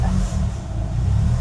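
A Mitsubishi Evo VI engine idles roughly as it warms up before an oil drain, a steady close, loud low rumble that rises and dips slightly throughout.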